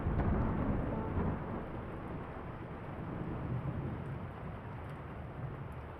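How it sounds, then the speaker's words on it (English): Steady rain beats against windows in a video game while low thunder rumbles beneath it, loudest at the start and easing into a constant wash of rainfall with no speech. "I love the sound of the rain on the windows."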